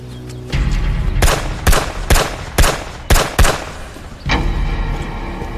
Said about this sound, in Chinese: 刚刚是枪声吗？